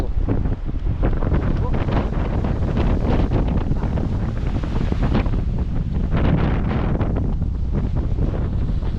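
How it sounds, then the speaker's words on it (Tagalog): Big sea waves and strong wind around a small boat at sea, a loud continuous roar of buffeting wind and crashing water that fills the whole stretch, with no talk heard. "Laki ng mga alon ngayon."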